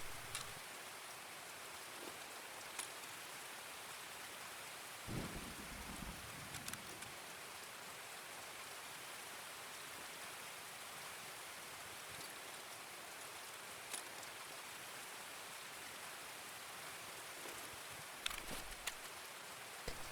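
Steady rainfall in the Escape from Tarkov game world, a faint continuous hiss of drops with occasional sharper raindrop ticks and soft thumps, lasting unbroken with no voices.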